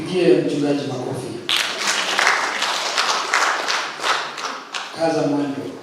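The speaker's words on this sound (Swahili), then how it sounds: "Tupigie mchungaji makofi" A church congregation at a Sunday Lent service claps for the pastor, several seconds of bright, uneven group clapping between bursts of voices and singing.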